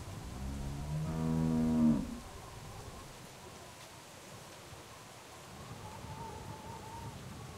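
A single loud, drawn-out cow moo sounds in The Walking Dead Telltale video game, then fades into a quiet outdoor ambience.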